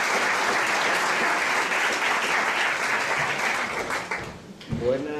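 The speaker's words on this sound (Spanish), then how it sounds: "a quien creo que merece recibirle con un fuerte aplauso" Audience applause welcoming a speaker at a lecture on Toledo's Roman theater, a sustained round of clapping filling the room, then tapering off near the end as a voice begins.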